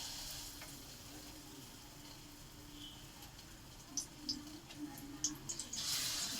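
Battered banana flower fritters fry quietly in oil with a soft, steady bubbling hiss, then brief louder crackles and pops as more go into the oil.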